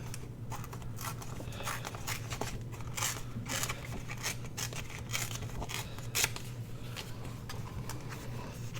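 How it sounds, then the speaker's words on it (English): A piece of book page paper torn by hand for a junk journal, with repeated short rips and crinkly tearing bursts over a steady low hum, close and fairly quiet. "So we'll tear a little piece of this to go on this side."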